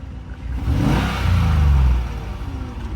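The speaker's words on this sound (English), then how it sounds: "let's give it a little rev. It doesn't sound bad." A warmed-up old-body-style Ford F-150 engine is briefly revved: a mid-pitched rumble swells and falls once over a few seconds, loud and close, with no speech.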